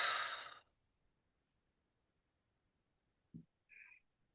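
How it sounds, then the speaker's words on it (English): A close, breathy exhale through the mouth during a guided breathing exercise, followed by quiet and then a soft low thump and a brief faint tone. "in through the nose and out of the mouth"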